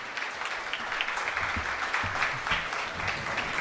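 Audience at a live political debate tour event in Los Angeles applauding, sustained dense clapping from a crowd with a few faint shouts mixed in.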